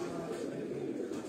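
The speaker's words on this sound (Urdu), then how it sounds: "یہ 5واں کبوتر ماشاءاللہ ان کا بیٹھا ہے" A pigeon coos softly and steadily in a short burst, close by, with outdoor background noise and people talking around it.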